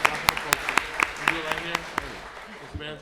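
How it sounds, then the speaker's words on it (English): Scattered hand claps ring out at a Savannah city council meeting, a handful of sharp, distinct claps in an uneven rhythm that thin out after two seconds, mixed with voices talking over them. "round of applause."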